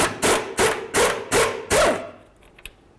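A pinion nut being removed on a Ford Crown Victoria, heard as five rhythmic, close ratcheting bursts from an impact tool that stop abruptly, followed by a faint clink.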